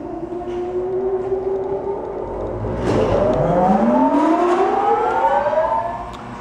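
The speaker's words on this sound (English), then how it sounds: "I'm going to push the motor button right here, and you'll hear this thing spin up." Challenge Machinery DAEHO iCutter i780 paper cutter motor spinning up, a steady hum that rises into a climbing whine as the flywheel gains speed, close and loud, then leveling off near the end.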